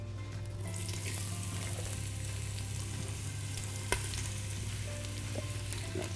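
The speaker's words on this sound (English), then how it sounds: "Once you put the onion in, you stir it for a bit" Diced onion frying in a pan for a Somali family rice dish, a steady close crackling sizzle with faint stirring scrapes and one brief knock, no voices.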